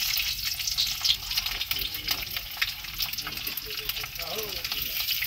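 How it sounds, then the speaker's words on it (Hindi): Capsicum (bell pepper) frying in a pan on a truck driver's roadside cooking stop, a steady bright sizzle with occasional stirring scrapes, close and fairly loud throughout, with no talk over it. "शिमला मिर्चा को पहले फ्राई करके निकाल लेते हैं"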